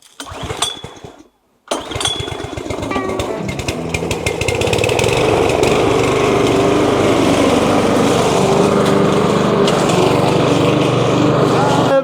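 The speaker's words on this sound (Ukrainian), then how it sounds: "Це газона косарка, скажімо так, вона, можливо, не призначена для такої польової городньої трави." A loud petrol lawn mower engine starts after a brief pause and runs steadily, roaring under strain as it cuts through thick, tall garden-plot grass.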